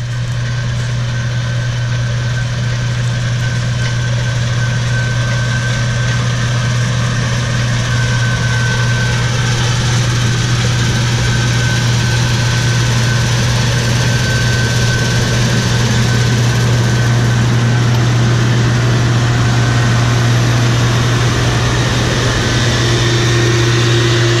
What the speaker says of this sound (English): so you guys can see the combine go by